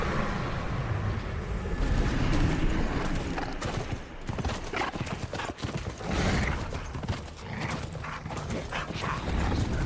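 Horse hooves gallop in a fast, continuous clip-clop while riding in the video game Middle-earth: Shadow of Mordor, loud and close, mixed with game ambience and a faint dog-like bark.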